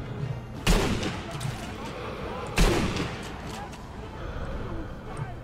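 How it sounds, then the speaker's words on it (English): Gunfire in the video game Sniper Elite 3, two sharp shots at about 0.7 and 2.6 seconds with bullets striking a wall, each decaying into a rumbling tail under low background noise. "Bullets keep on hitting the fucking wall somehow."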